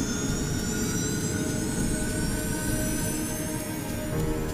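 Airliner jet engines at full throttle during a test flight, a loud, continuous, steady roar with a high whine rising through it, heard up close and without any voices.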